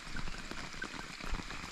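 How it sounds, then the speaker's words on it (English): Rain falling on a sandy beach on a remote northern Australian island, a steady broadband patter of drops with no voices, even and moderately loud throughout. "I was hoping for rain, and here we go."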